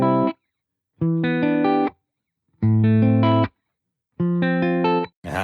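Dry guitar loop with no reverb: four short strummed chord phrases, each cutting off abruptly into silence between them, clear and close.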